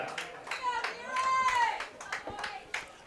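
Spectators clap at a varsity boys' high school soccer game on senior night, scattered hand claps in quick bursts mixed with crowd chatter and voices.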